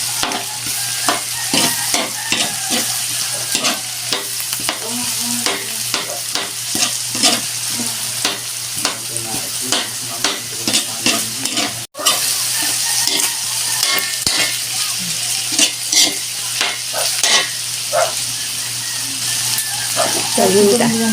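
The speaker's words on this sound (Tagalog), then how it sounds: "Dito na lalagyan ang sibuyas. Halo-haloin." Onions stirred and frying in a pan for palabok, with a continuous loud sizzle and repeated scraping stirs close by, a steady low hum underneath and a brief break midway.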